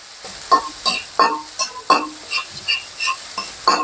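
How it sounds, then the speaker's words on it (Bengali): Mustard paste frying in a pan while being stirred, with sharp scraping strokes of a spatula at an irregular rhythm over a faint sizzle, close and fairly loud with no talking. "সরিষা বাটা যেটা, সেটাকে একটু ভেজে নিচ্ছি"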